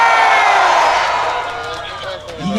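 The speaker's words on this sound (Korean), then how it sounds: "오늘 국악축제를 위해 영동을 찾아주신 우리 수많은 관광객분들 함성 소리 한번 들어보도록 하겠습니다" Festival tourists at a Korean traditional music festival in Yeongdong cheer loudly in a broad roar that gradually subsides, with a voice emerging at the end.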